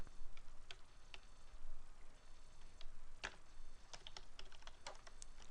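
Quiet, irregular typing of code on a computer keyboard, with scattered soft key clicks and a few sharper taps over a faint background hiss, no voices.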